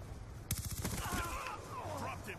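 An automatic sniper rifle in Black Ops 2 fires a rapid burst of sharp, close shots that trail off into softer gunfire and background game noise.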